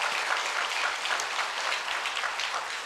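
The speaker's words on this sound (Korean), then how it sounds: "우리 박수로." A congregation at a Catholic retreat house night session claps together in a steady, dense burst of applause that holds evenly from start to finish, with no voices over it.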